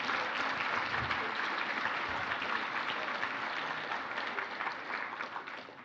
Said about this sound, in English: Can we give another round of applause to Nicole?